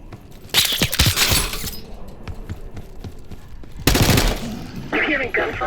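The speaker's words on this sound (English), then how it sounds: "You hearing gunfire?" Bursts of automatic gunfire and crashing impacts from Call of Duty: Black Ops 6 erupt loudly, fall to a murmuring lull with scattered clicks, then flare again in a second heavy volley with shattering debris.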